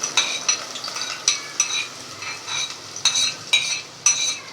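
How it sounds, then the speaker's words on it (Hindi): Two finely chopped onions fry in half a cup of oil over medium-low heat, a close sizzle punctuated by regular scraping stirs of a spatula against the pan, with no voices. "हम प्याज को अच्छे से फ्राई कर लेंगे ताकि ये ब्राउन हो जाए।"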